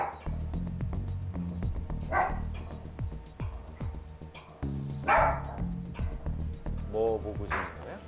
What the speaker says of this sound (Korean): 밖에 어떤 소리 들리면 저렇게 짖더라고요